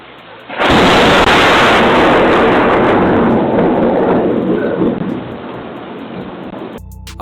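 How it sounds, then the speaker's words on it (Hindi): A lightning strike lands close to a car in heavy rain, and its thunder erupts as a sudden loud roar that rolls on for several seconds before easing into steady rainfall. "इसकी गाड़ी से कुछ फासले के ऊपर आ गिरी आसमानी बिजली"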